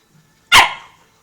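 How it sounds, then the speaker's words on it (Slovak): An Akita Inu gives a single loud, close bark, a sharp burst that fades quickly in an otherwise quiet setting. "Ale aký mu štekol, normálne, Leo mal otvorené ústa a aký štekol"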